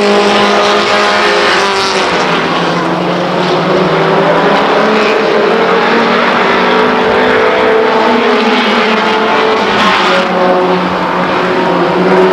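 Race trucks on the Stockton 99 Speedway short track give a loud, continuous engine roar that swells and fades slightly as they circle past, with no talk.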